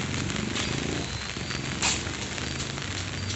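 Heavy continuous rain from a typhoon in the Philippines falls as a dense, steady hiss and patter, loud and unbroken throughout with no talk.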